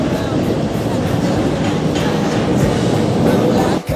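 Riding a crowded metro subway train, a loud, steady rumble of wheels and carriage noise fills the space, with faint voices in the background.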